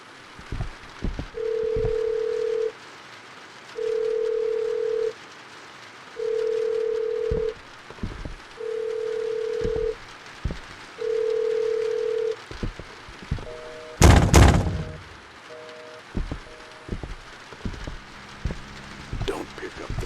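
Telephone in the horror video game In the Facade We Trust, five evenly spaced ringing tones under soft dripping rain, then a burst of noise and a few shorter, fainter rings.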